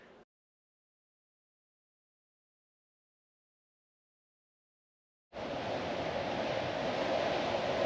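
Surf rolls onto a beach in Spain on a windy day, starting abruptly after near silence as a steady, loud wash of breaking waves and wind noise.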